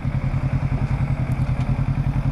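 Kawasaki Ninja 650 motorcycle under way, a steady low engine drone with a pulsing, throbbing rhythm and wind rumble, loud and close throughout with no voices.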